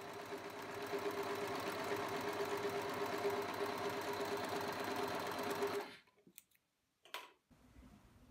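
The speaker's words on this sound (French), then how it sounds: "on zigzag où on surjette les valeurs de couture séparément" A domestic sewing machine runs steadily for about six seconds, zigzag or overlock stitching the seam allowances of a blouse, then stops, followed by a few light handling clicks in near silence.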